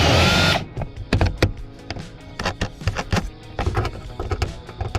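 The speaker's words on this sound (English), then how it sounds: "now I'm gonna drill 2 holes here so we can mount this up with some bolts" A power drill bores two holes for mounting bolts on a $2,500 project car. Short, repeated bursts of whirring and grinding come from close by, separated by brief pauses, after a louder initial rush of noise.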